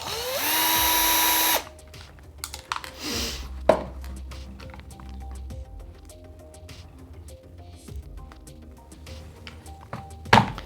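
Small power driver removing a screw from an RC car body shell on an RLAARLO AM-X12, a short whining burst at the start followed by light clicks and taps of handling parts.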